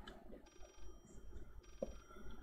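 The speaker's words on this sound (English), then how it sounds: "So there's a phone ringing." A phone rings in the horror video game Layers of Fear, two electronic trills separated by a pause, faint and alone without talk.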